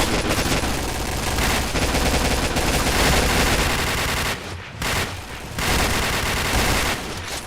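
Rapid automatic gunfire in a shooting video game, loud and sustained in dense bursts with a short pause midway.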